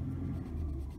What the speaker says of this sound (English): that's the garbage truck making all that noise